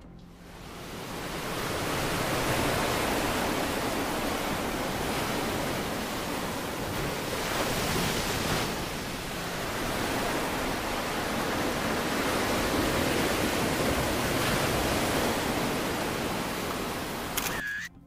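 Sea waves crash and wash against a coastal house, a dense continuous roar of surf with surges rising and falling over eighteen seconds and no voices.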